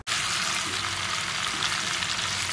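Chicken frying in a pan for a tomato chicken dish, a loud, dense, continuous sizzle of hot oil held steady throughout with no talk.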